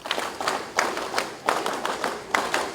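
An audience at a formal opening and closing ceremony claps in a short burst of applause, irregular hand claps swelling in waves, fairly close and clear with no talk over it.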